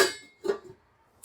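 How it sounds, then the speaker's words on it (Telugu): A single bright metallic clang with a short ringing tone as a metal lid is set on a cooking pot of drumstick and Bombay duck curry, followed by a softer knock and another clink at the end. "ఇప్పుడు మూత పెట్టుకుందాం"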